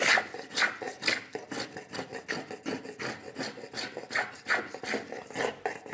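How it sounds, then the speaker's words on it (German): Hand plane shaving wood while a traditional wooden chair is being built, heard as a steady series of close, rasping strokes, about two per second, soft and even, with no talk. "Und ich hobel mal noch ein bisschen weiter hier."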